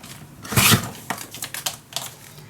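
Scissors cut paper for a handmade mini album, a sharp crisp snip followed by several lighter clipping and rustling sounds, close and fairly quiet.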